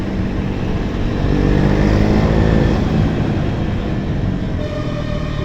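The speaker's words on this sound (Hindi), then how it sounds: "इस बाइक का साउंड ये है, ये साउंड हो गया।" A KTM Duke 250 motorcycle fitted with an aftermarket exhaust runs close by, giving a loud, steady, deep engine rumble that holds throughout with no voices.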